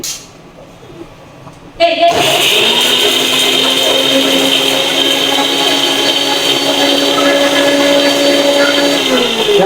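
A mixer grinder grinding coconut starts abruptly and then runs as a loud, steady, high whine and motor hum up close, after a quieter moment of background talk.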